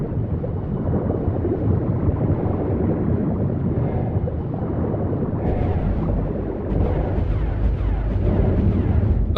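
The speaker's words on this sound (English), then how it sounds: "Oh, cannons." Cannons firing in the video game Ark Survival Evolved boom in a heavy, continuous rumble over sloshing water, with a few sharper bursts near the end.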